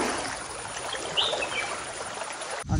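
A small stream flows steadily through a green Konkan countryside setting as a continuous soft trickle and burble, heard alone and up close, ending in a brief handling knock.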